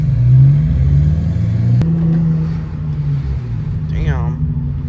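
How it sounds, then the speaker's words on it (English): A Nissan 370Z with aftermarket intakes revs nearby. Its deep, loud engine note rises and falls in pitch, with a short click partway through, and a voice comes in briefly near the end. "Damn, them intakes sound pretty good."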